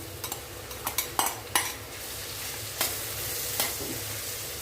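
Mushrooms sizzle steadily in a pan while a utensil stirs and scrapes, with several sharp clinks against the pan.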